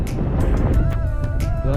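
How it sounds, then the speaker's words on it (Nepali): Strong gusting wind buffets the microphone on a hot afternoon, a steady low rumble with louder surges, while a person talks over it. "गर्मी छ तर हावा बब्बाल चलेको छ"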